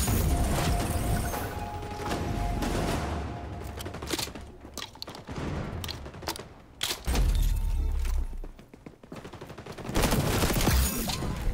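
Shotgun and other gunfire in the shooter game XDefiant, with bursts of shots, mechanical clicks and crashes spread unevenly over the stretch, fairly loud and close.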